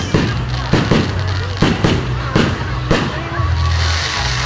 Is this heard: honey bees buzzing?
no